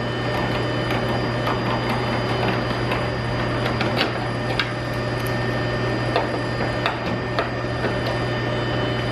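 A screw is driven back in to secure a Toyota Tundra door handle cover, giving a steady mechanical whir under faint scattered clicks and small knocks, close and continuous.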